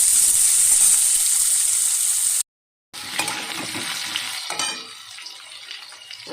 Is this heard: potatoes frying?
yes